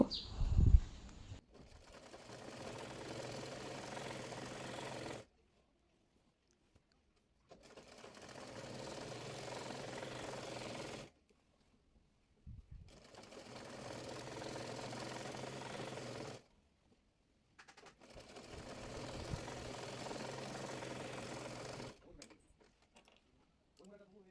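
A sewing machine stitches the middle seam of a salwar in four steady runs of moderate loudness, each lasting several seconds, with brief silent gaps between them and a clatter at the start.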